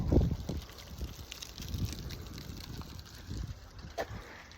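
Blustery wind rumbles across the microphone on a sunny neighborhood street in Carlsbad, California, with uneven low-pitched gusts pulsing throughout and a strong thump at the start.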